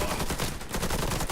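Rapid, dense sniper rifle gunfire from the video game Warface, a continuous loud burst of shots filling the whole stretch without pause.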